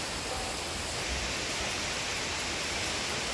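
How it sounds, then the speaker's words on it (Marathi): Heavy rain driven by wind pours down in a dense, steady rush that holds at an even, loud level throughout, with no voices. "खूप जोरदाराचा पाऊस यायला सुरुवात झालेली आहे."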